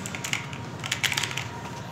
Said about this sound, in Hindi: टाइपिंग का काम ज़्यादा होता है, तो आप ये कीबोर्ड ज़रूर ले सकते हैं